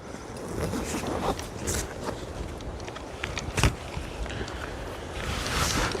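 A faulty backpack zipper is worked back and forth outdoors, producing short rasping zips amid wind and rustling, close to the listener.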